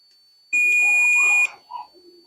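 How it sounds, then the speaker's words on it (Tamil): A continuity tester gives one steady, loud, high beep lasting about a second while probing the terminals of a single-phase two-pole contactor, followed by faint handling noises. "நம்ம இது மாதிரி வச்சுட்டு பீப் சவுண்ட் வருதா அப்படின்னு பார்த்தோம்னா இந்த டெர்மினல் வந்து கரெக்டாக இருக்குன்னு அர்த்தம்."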